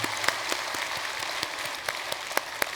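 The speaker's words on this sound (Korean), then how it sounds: "박수로 환영하도록 하겠습니다" A Korean church gathering welcomes someone with applause, a continuous wash of many clapping hands with distinct sharp individual claps standing out, steady and fairly close.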